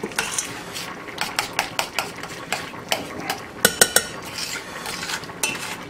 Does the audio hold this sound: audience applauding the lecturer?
no